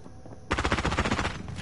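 Rapid automatic gunfire from a weapon in Call of Duty on Rebirth Island, a sustained burst of dense, evenly spaced shots starting abruptly after a brief quiet lead-in and running loud and close to the end.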